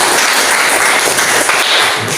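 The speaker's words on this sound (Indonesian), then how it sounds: "Iya, tepuk tangan." Classroom applause, a dense burst of many hands clapping at once, loud and sustained for a couple of seconds before tapering slightly.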